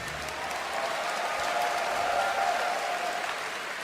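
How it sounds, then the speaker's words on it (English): A crowd at BlizzCon 2011 applauds StarCraft II player MVP during a tournament match, a continuous, even roar of clapping and cheering from a large hall, held steady with no talk over it. "Clap a little bit for that MVP guy."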